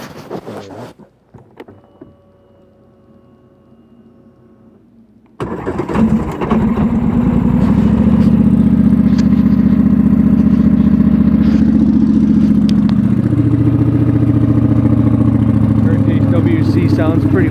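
Polaris Sportsman 1000XP ATV with an RJWC aftermarket exhaust cranks and fires at about five seconds after near silence, then settles into a loud, deep, steady idle close to the microphone.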